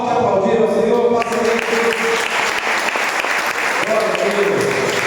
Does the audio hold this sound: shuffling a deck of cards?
no